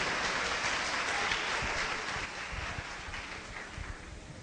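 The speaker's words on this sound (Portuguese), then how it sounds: "Palmas, irmãos." Applause from a church congregation during a service, a dense, even patter of many hands at moderate volume that gradually thins and softens toward the end, with some low rumble beneath.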